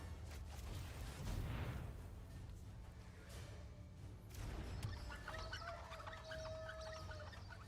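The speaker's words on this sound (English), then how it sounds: "I think that's supposed to be a spinning wheel, but there's a goose in there too, in that sound." A spinning wheel card effect in the MtG Arena video game plays with a goose honk mixed in, giving clucking, honking bird-like bursts over a steady whirring bed that ends in bright chiming tones.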